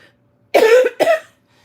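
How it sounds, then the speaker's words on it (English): Two close, harsh coughs in quick succession from a person with a lung infection, loud and nearby, with nothing else around them. "the cough just pops up every now and again"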